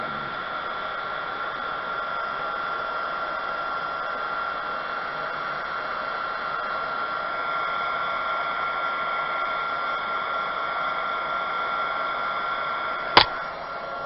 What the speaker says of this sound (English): So I'm going to put this in there, get my heat gun